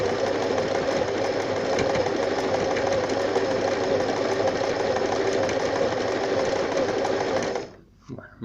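An Elna Simple 113 sewing machine stitches a French seam with a steady, fast mechanical whir and needle chatter close by, running for about seven seconds before stopping abruptly.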